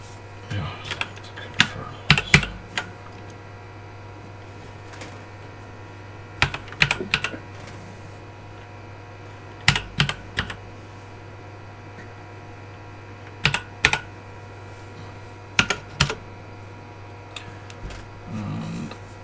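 Password entry on a computer keyboard in a room with a humming HP ProLiant DL580 G9 server: quiet bursts of clustered key clicks separated by pauses, over a steady low drone.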